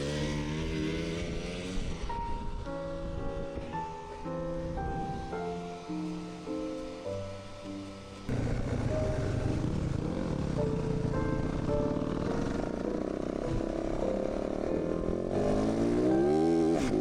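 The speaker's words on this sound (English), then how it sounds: "La moto va por donde puta quiere." An enduro motorcycle engine revs and labours loudly through deep mud in a race, the pitch rising and falling with throttle changes, then a louder rougher stretch of hard revving in the second half.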